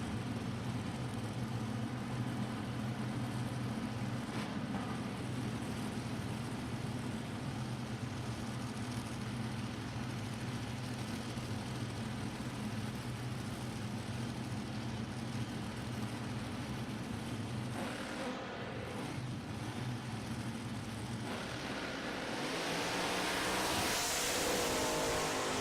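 Nitro funny cars launching side by side at a drag race start: a sustained, loud, droning engine roar with steady harmonic tones, swelling into a harsher blast toward the end, with no voices.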